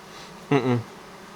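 A single short buzz of a bee passing close by a hive at an apiary, lasting only a moment against a quiet background.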